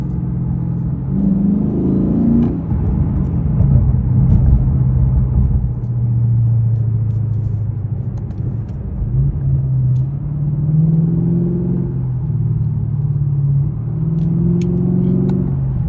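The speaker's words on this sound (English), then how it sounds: "Noise in the cabin, it's pretty drony." A low, droning V8 engine rumble fills the cabin of a 2022 Lexus RC F, rising and falling slightly as the car accelerates, loud and continuous throughout.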